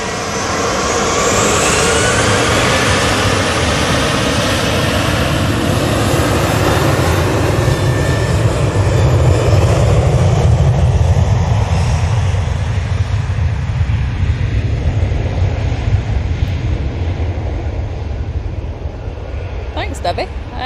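A Virgin Atlantic airliner landing close to the runway, its engines producing a loud, broad roar that builds and swells before gradually easing off, with some talk audible in the background.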